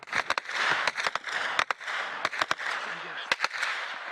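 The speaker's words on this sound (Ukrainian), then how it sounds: "розривні кулеметні вибухають просто над головами" Rapid sharp cracks and pops of exploding machine-gun bullets burst one after another over a dense rushing background, close overhead.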